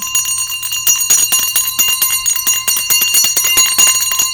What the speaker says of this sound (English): I'll use my bell to clear any energy.